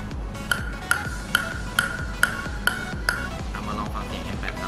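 A table tennis ball strikes a Sanwei M8 paddle in a steady rhythm, roughly eight crisp, ringing pings about half a second apart, close and clear over a faint background.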